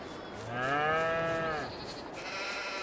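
Goats and cows in Farming Simulator 22, with a clear, drawn-out bleat up close and fainter livestock calls following, set over quiet farm ambience.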